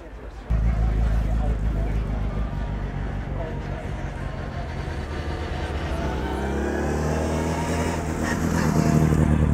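A 1954 split oval window Volkswagen Beetle drives past at a hill climb, its engine note building steadily over about ten seconds and staying loud, with a vehicle rumble throughout and no talk.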